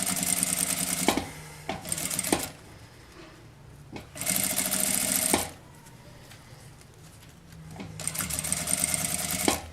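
A sewing machine stitches bias binding around the curves of a fabric phone holder, running in three steady bursts of rapid whirring with quiet pauses and small handling clicks between them.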